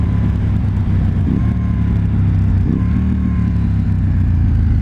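A motorcycle engine drones steadily and close while riding, with brief dips in pitch where the gears shift smoothly, all under constant wind and road rumble.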